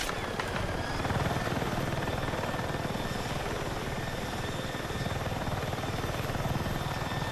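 Helicopter rotor and engine noise from a military video game plays as a loud, continuous chopping drone throughout.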